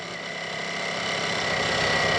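A Ducati Panigale V4S motorcycle engine running at low road speed, a steady mid-pitched drone that slowly grows louder, with no voices.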